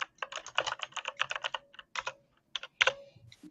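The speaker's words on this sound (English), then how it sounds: "All right, Jonah, do you have one of those annoying high volume, loud, tactile, clicky keyboards?" Rapid clicking keystrokes from a loud, clicky tactile mechanical computer keyboard, typed in quick irregular bursts with brief pauses, close and alone with no talking.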